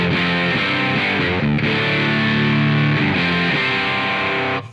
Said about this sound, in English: They're just really good distortion pedals.